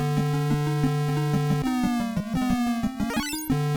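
A Bandit Racer game on a VG Pocket Max handheld emits a flat, monotone buzzy engine drone with a steady stepping pulse, shifting pitch slightly before a rising sweep, loud and alone.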